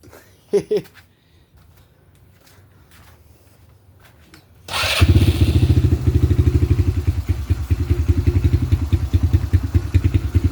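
E-Ton Viper 150 engine starting up after a few faint clicks and taps, then running steadily with a loud, even, rapid chugging idle that continues to the end.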